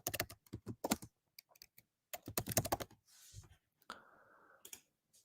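Code being typed on a computer keyboard during a Python Behave web test automation session: several bursts of rapid, close key clicks separated by short pauses, with a softer rustling patch near the end and no talking.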